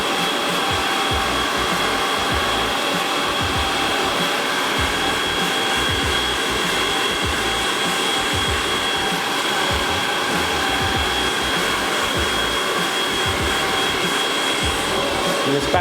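A hair dryer blows steadily on medium heat and medium power, a continuous loud airy whoosh with a constant motor hum and no break for the whole stretch, no voices over it.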